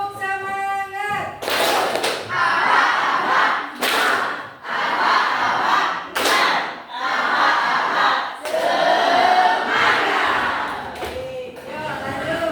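A classroom of students performs the tepuk semangat spirit clap, rhythmic bursts of group clapping and chanting voices in loud repeated waves with short pauses between them.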